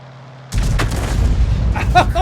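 Tank cannon shot in the World of Tanks video game, a sudden loud boom with a rumbling tail, followed by a few fainter mechanical clanks.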